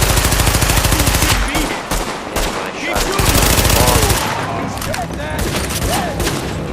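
SMG gunfire in the video game The Division: loud, sustained rapid bursts of automatic fire with short pauses, while someone talks over the action.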